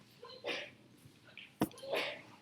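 A single sharp sneeze bursts out indoors in a classroom lecture setting, brief and close, set between faint stretches of speech.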